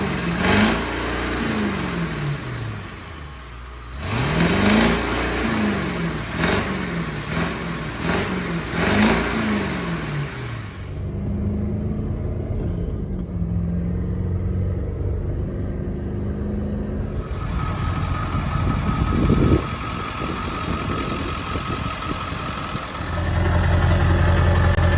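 A Ford F450 pickup with an old 7.3 diesel engine roars up close and loud, revving in rising and falling surges, then settling into a steady idle rumble with a brief throttle blip near the end.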